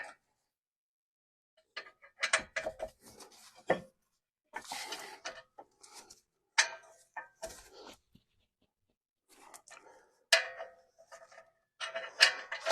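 A ratchet wrench retorques the rear brake caliper bolts on a Chrysler Town and Country minivan. Short bursts of quick mechanical clicking come in separate spurts with pauses between them, close and fairly loud.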